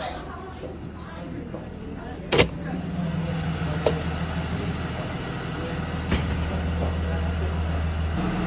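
Steady low hum of cars idling and rolling out from a school at dismissal, pickups among them, with a few brief knocks and clicks over the constant traffic drone and people talking.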